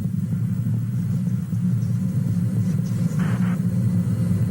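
Space Shuttle Columbia's main engines rumble during launch on STS-5, a steady, dense low roar heard from a distance without letup.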